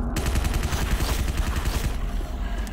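Assault rifle in Doom 3 firing a sustained rapid automatic burst, loud and dense, with shots rattling continuously for nearly three seconds.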